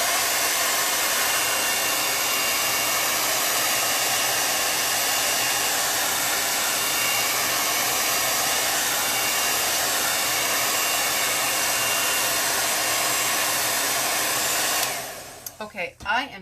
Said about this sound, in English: this blow dryer will dry it enough